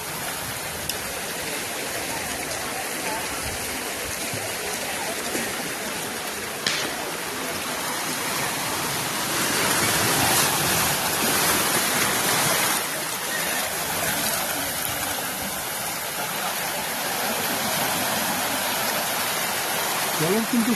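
Strong sea waves surging up Palolem beach in South Goa, a loud, steady wash of water and foam close by, swelling louder midway, with voices talking over it.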